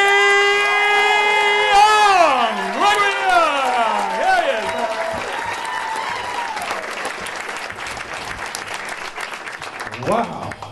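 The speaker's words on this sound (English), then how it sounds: "So can you give him a lot of extra applause?" A comedy club crowd at the Atlanta Punchline greets comedian Gregory Young with loud applause and whooping cheers. The cheering is strongest at first, then the clapping thins and fades, with a brief shout near the end.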